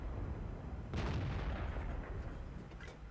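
A tank shell from World of Tanks striking the player's Pz 58 Mutz lands as a single heavy boom, followed by a rumbling blast that decays over a couple of seconds beneath the steady engine drone.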